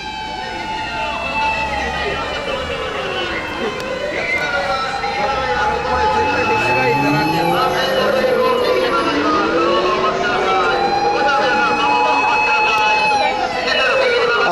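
A fire truck passes on a street in Japan, its siren wailing loudly in repeated rising and falling sweeps over traffic noise, while people talk nearby.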